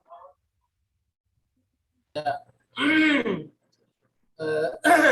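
A man on a video call lets out several loud, harsh coughs in bursts, separated by silence, with a brief quieter sound at the start; the coughs are close and distorted by the call audio.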